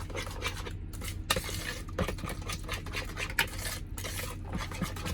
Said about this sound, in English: And then we just mix this all together.